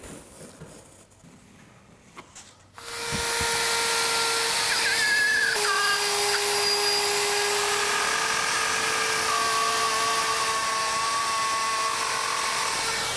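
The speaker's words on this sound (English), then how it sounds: "Option number two, rotozip. A lot cleaner of a cut, but really dusty." A RotoZip rotary tool cuts a hole in a ceiling for recessed lighting, starting abruptly with a loud, steady high-pitched whine and grinding buzz that holds for about ten seconds, close up with no talking.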